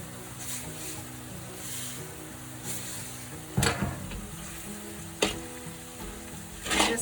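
Lightly browned onions sizzle steadily in a pan after chili powder and salt go in for tofu fried rice, a soft continuous frying hiss broken by a few sharp clanks of a utensil against the pan.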